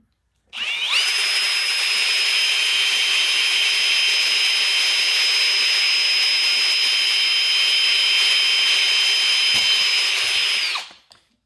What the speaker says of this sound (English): First, we got to get these holes drilled.